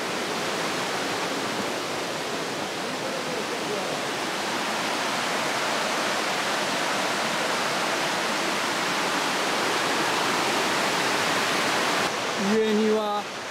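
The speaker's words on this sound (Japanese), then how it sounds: "大変美しい 川ですね" A beautiful river near Ochiai village rushes in a constant, loud broadband wash, with a short burst of voices right at the end.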